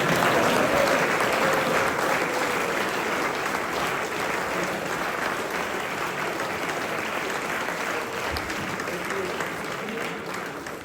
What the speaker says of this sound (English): So please give Viv a round of applause.